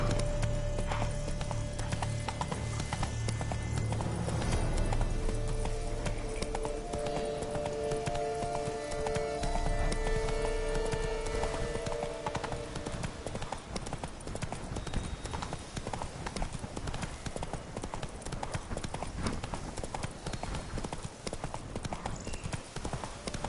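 Rhythmic clip-clop of the horse Roach's hooves galloping in The Witcher 3: Blood and Wine, steady and fairly faint, with a brief whinny and game music tones early on.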